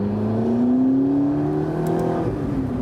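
A 650 hp McLaren 650S Spider V8 engine hums and rises gradually in pitch as the car accelerates, a steady, deep burble heard from inside the cabin.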